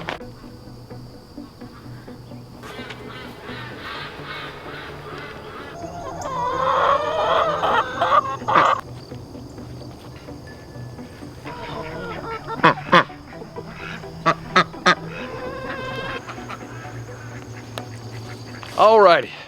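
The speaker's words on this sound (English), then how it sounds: "down here by the pond, we have our ducks set up" Chickens and ducks kept by a pond cluck and call in scattered bursts, with several sharp calls close by near the end, over steady outdoor background noise.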